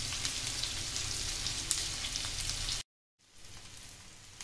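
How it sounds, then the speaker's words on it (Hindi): Arbi (taro root) shallow-fries in a tablespoon of oil with a steady soft sizzle that cuts out abruptly near the end, then returns more faintly. "हम इसको शैलो फ्राई टाइप कर रहे हैं।"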